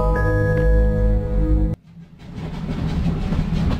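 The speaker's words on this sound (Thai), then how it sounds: "อะไรเอ่ยเสียงรถไฟนะ" A train in the puzzle game The Room Three rumbles loudly with a steady tonal hum, cuts off abruptly, then a quieter rolling clatter builds back up, with no talking.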